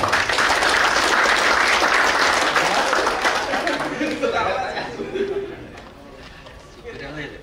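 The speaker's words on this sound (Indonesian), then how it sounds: "Tepuk tangan dulu dong" A group breaks into lively applause with cheering and chatter, the clapping fading out after a few seconds as voices continue.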